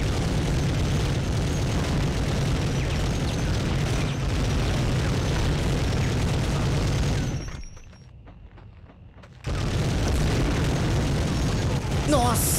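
Bazooka and grenade blasts rumble continuously in a video game, dense booming explosions and bursts filling most of the stretch with a short quieter gap, while a player talks over them.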